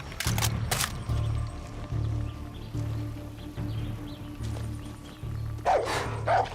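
A dog barking in the video game Far Cry 6, a series of repeated barks at a steady rhythm, moderately near, followed by a brief louder burst near the end.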